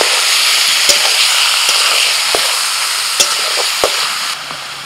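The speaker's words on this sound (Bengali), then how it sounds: "পেঁয়াজ অর্ধেক ভাজার পরেতে আমি দিয়ে দিচ্ছি মাংস।" Country chicken, fatty from winter, hits half-fried onions in hot oil and sizzles loudly and steadily, with occasional sharp clinks of a utensil against the pan.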